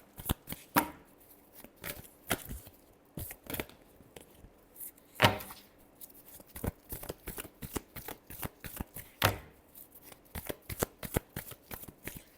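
Tarot cards shuffled by hand in a quiet room, a steady run of crisp riffling slaps and soft flicks over about twelve seconds, close and fairly quiet with no talking.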